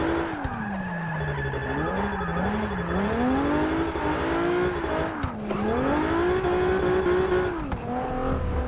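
A drifting car in Forza Motorsport 6 on the Transfagarasan road, engine revving up and down in steady, loud sweeps with continuous tire squeal throughout, no voices.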